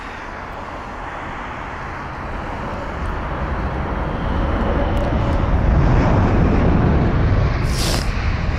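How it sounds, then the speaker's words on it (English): A British Airways Boeing 787-8 Dreamliner using reverse thrust after touchdown at London Heathrow, a broad roar that swells steadily in loudness and stays strong to the end, with a brief spoken word near the start. "I know the reverse thrust is probably going to be quite loud."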